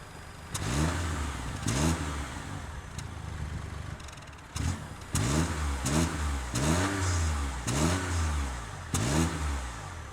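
A 2019 Mini Cooper Countryman S E plug-in hybrid's small three-cylinder engine revs up repeatedly in several surging bursts, each climbing in pitch, with a slightly rough, throbbing note and brief pauses between.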